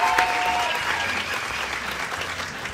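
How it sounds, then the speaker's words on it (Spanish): Audience applause for a costumed mascot performer at a live comedy show, a dense wash of clapping that holds steady throughout, with a brief whistle and faint voices at the start. "Un aplauso para mi amiga botarga."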